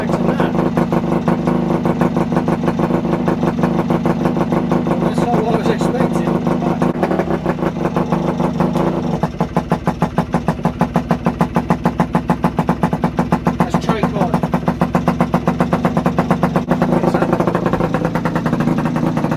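A Kawasaki AR125 motorcycle engine runs with the choke on, a loud steady two-stroke idle with rapid even firing pulses that grow sharper and busier about halfway through, close to the listener throughout.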